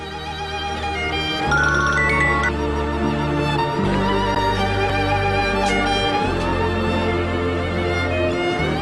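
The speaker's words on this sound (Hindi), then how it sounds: "फोन नहीं उठाओगी?" A phone ringtone plays a repeating electronic melody, fairly loud and steady, with no voices over it.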